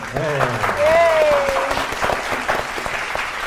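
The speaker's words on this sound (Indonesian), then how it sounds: "kita kasih tepuk tangan dulu untuk kedua tim" A studio audience on an Indonesian quiz show claps for both teams, a steady burst of applause with a host's voice briefly heard over it.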